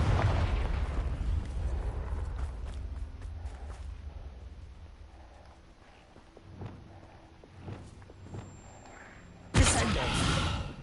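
Confringo blasting curse exploding in Hogwarts Legacy, a deep booming burst fading into rumble, a few scattered thuds and pops, then a sharp loud blast near the end; no talking.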